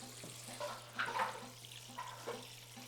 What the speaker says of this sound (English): Hadn't drained my water hose off,